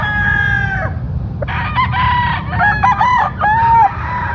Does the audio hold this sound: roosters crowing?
yes